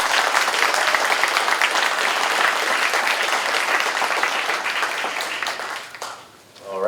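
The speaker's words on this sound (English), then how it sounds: "So a round of applause" An audience at a horror convention panel claps in sustained, dense applause that holds steady, then tapers and dips near the end before swelling again briefly.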